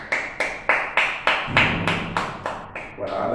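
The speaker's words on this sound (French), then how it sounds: "cette minute d'acclamation que nous allons observer ici même sur le plateau de Cato LTV" A studio group on a television news set claps in slow, even unison for a minute of acclamation. Around ten sharp, evenly spaced claps ring out one after another, close and clear.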